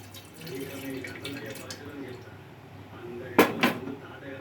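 Oil is poured into a pot of Hyderabadi dum biryani over fried onions in a home kitchen: a soft, close trickle, then two sharp metallic clinks of the vessel near the end, with a voice talking in the background.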